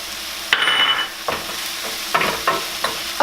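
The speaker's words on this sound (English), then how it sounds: "cook it until it's nice and brown. Add in the garlic, all of my seasonings." Meat browning in a pan with garlic and seasonings, a steady sizzle with a few louder bursts as the food is stirred and scraped, close and continuous with no talk.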